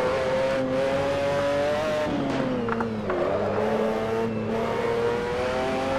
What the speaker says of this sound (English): Fantastic sound. Probably one of my favorite sounding cars in Assetto Corsa so far